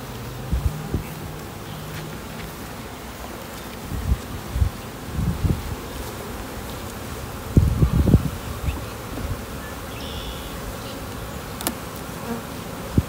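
Honeybees buzzing around an open hive during a hive inspection, a steady swarm hum with occasional louder passes near the microphone and some rustling handling sounds.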